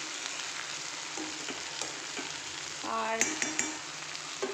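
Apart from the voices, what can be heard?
long beans, potato and onion frying in pan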